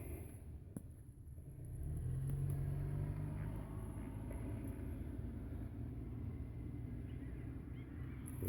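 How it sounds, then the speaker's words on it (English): A car rolls slowly past on a street, a steady low engine and tyre rumble that swells slightly and holds for several seconds at moderate distance, with no talking over it. "another guy that's driving, just slowly driving by"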